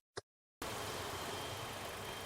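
A 2021 Toyota Rush G automatic SUV idles with a smooth, steady engine hum, heard close and continuous after a brief click at the start.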